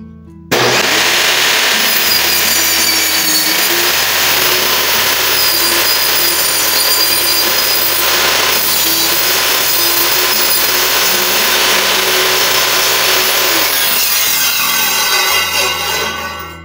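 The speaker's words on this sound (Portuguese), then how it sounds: "Vou ligar a máquina aqui e começar a elevar ela." Table saw switched on and running steadily as its blade is raised and cuts into wood, a loud continuous whine with shifts in pitch through the cut, close and alone without talk.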